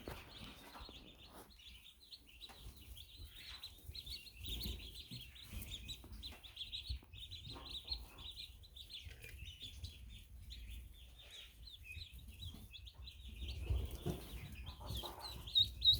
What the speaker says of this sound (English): These beautiful 12 ducklings and 7 Americanas.